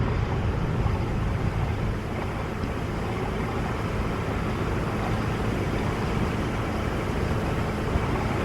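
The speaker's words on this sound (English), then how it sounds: "Here goes one of the BC ferries, Spirit of British Columbia. He's hauling butt." BC ferry Spirit of British Columbia passing at about 17 knots near a sailing boat, a steady broad rush of engine and water noise mixed with wind buffeting on the microphone, continuous and fairly loud throughout.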